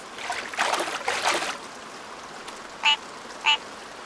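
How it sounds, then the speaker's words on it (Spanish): Two short nasal duck-like calls from a tree frog, spaced about half a second apart, following splashy water sounds nearby. "Es una rana."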